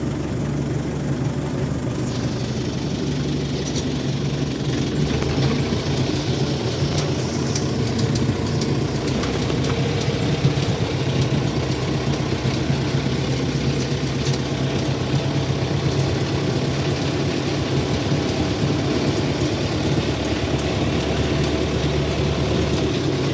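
A Skaut 404 tractor engine idles in a steady, loud, low rumble with an even mechanical throb, running continuously nearby without any speech over it.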